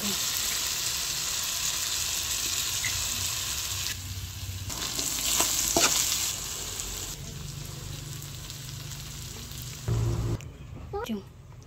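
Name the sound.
hotdog frying in a pan for creamy spaghetti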